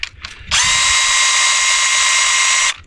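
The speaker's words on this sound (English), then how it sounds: "we're going to tighten at least one of the pipe clamps" A power tool whirs loudly in one sustained, steady burst of about two seconds while tightening a pipe clamp on maple sap lines, after a few short clicks and knocks.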